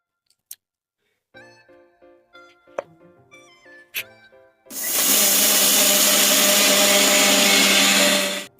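A kitchen mixer grinder whirs loudly and steadily for several seconds, grinding flax seeds with cardamom pods for a healthy laddu, after a few scattered clicks and clatters as the jar is set in place.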